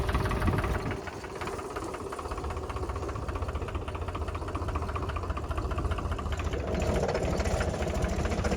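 A tractor engine idles slowly at about 600 rpm on a farm, giving a steady, close knocking throb with a rhythmic mechanical clatter and no talking.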